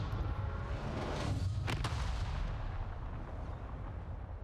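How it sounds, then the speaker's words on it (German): Video game explosion in Avatar Frontiers of Pandora: a continuous loud, rumbling low roar with a brief sharper crack partway through, filling the whole stretch without speech. "Halt Abstand zur Explosion."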